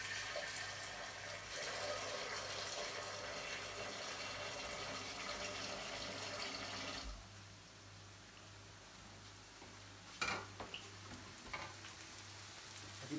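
A pot holding a veal bone and a piece of ham fills with running water, a steady rushing stream for about seven seconds that then stops, leaving a quiet kitchen with a few faint knocks.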